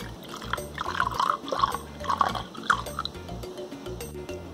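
Pineapple juice pours into a cocktail shaker, a soft splashing trickle with small drips, close and moderately quiet, alone.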